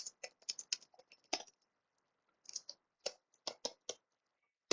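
Bursts of quick clicky keystrokes on a computer keyboard, close and quiet, in several irregular runs separated by short pauses.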